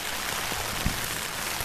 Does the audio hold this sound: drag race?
no